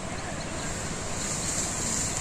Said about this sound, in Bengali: শব্দ কি বাতাস আর উত্তর দিকে বৃষ্টি